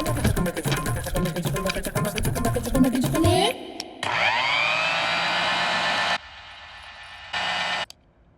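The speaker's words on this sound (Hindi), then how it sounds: "एक बार मिक्सर ऑन करके सुनाइए।" A kitchen mixer grinder switches on and runs with a loud steady whirring whine, its motor changing pitch and cutting in and out toward the end, heard alone without talk.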